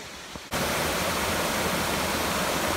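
Water rushing at Embac Falls, a steady broadband roar that cuts in abruptly after a quiet half-second and stays loud and even to the end.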